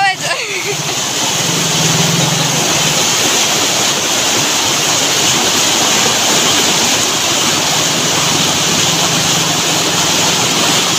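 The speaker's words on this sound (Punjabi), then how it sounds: "ਪਾਣੀ ਬਹੁਤ ਸਪੀਡ ਨਾਲ ਆ ਰਿਹਾ ਹੈ" Fast-flowing water rushes through a canal in a loud, steady roar that fills the scene, with a brief voice at the very start.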